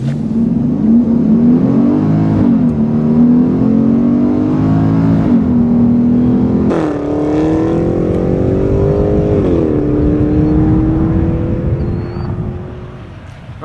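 A BMW X5 M SUV accelerates hard from a standstill to 60 mph, its engine note rising loud and close through several distinct gear shifts, each marked by a brief dip before the pitch climbs again.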